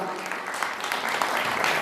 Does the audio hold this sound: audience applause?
yes